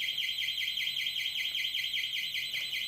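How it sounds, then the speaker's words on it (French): A loud Smanos K1 home security alarm shrieks continuously with a rapid, warbling pulse, high-pitched and steady throughout, with no voices. "l'alarme va se déclencher instantanément"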